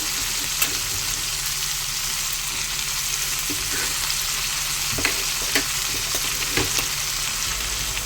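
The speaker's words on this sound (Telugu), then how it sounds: "బీన్స్ అనేది పచ్చివే వేస్తున్నాను, ఎందుకంటే బీన్స్ అనేది ఊరకనే మగ్గిద్ది ఆయిల్లో" Raw green beans fry in hot oil in a pan, giving a steady close sizzle with occasional sharp pops and light stirring scrapes throughout, with no voices.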